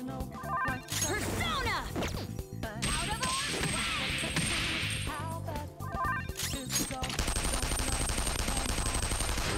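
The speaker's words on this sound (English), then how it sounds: "Listen to gunfire too." Gunfire in the video game Persona 5 Royal: repeated loud shots and rapid bursts mixed with crashes, impacts and game music, with voices calling out over the battle.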